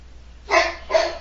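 A dog barks twice nearby, two short sharp barks spaced about half a second apart against a quiet indoor background.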